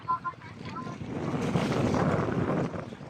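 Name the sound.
boat riding strong waves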